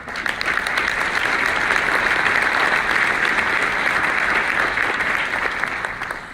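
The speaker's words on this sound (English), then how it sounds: "give yourselves a round of applause" An audience at a St. Louis event on higher education in prison breaks into loud, steady applause, a dense wash of clapping that holds evenly for several seconds before tapering slightly at the end.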